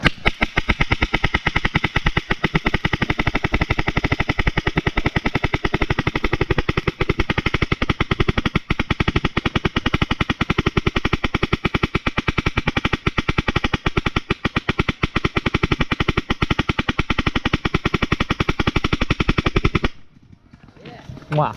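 Paintball markers fire in rapid, sustained volleys at an outdoor paintball event on a rainy day, a dense loud chatter of shots that runs nearly unbroken and then cuts off abruptly near the end.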